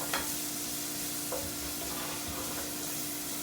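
Onions with a paprika spice mixture cook in a pan for a Hungarian eggs paprikash breakfast, giving a steady low sizzle with a few soft stirring scrapes, close and continuous with no talking.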